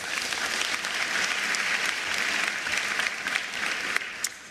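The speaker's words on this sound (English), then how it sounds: "Can we please give them a round of applause?" Sustained applause from the audience at a national school-leaving exam results announcement, steady and even throughout, with a few sharper claps near the end.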